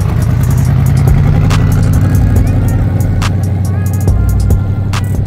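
Toyota 4Runner engine revving hard on a sand dune at Blow Sand, Ocotillo Wells, a loud, steady mid-range roar with mechanical clatter and rising revs, close and continuous.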